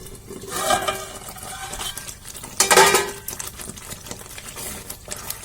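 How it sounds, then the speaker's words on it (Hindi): A spoon scrapes and clatters against a pan while stirring paneer masala, in a few loud close bursts of metallic scraping separated by quieter rustling and light taps. "अब हम मिला लेंगे और इसे 2 मिनट के लिए कवर कर देंगे इस तरीके से"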